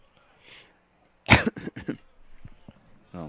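A baseball commentator coughs sharply into a live microphone in a booth at a high school varsity game, a single harsh burst followed by a few smaller coughs and throat noises, close and loud against near silence.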